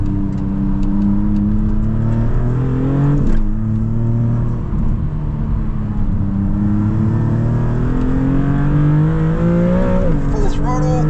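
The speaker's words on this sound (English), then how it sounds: "That turbo sound is so good." Maserati MCPura twin-turbo V6 at full throttle on a wet road, a loud continuous engine note climbing and dropping through the gears, with turbo whir heard from inside the cabin.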